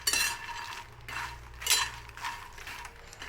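Fox nuts (makhana) are dry-roasted and stirred in a pan, giving faint rattling, scraping bursts in an uneven rhythm.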